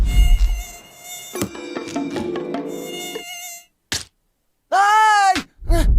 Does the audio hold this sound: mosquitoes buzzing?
yes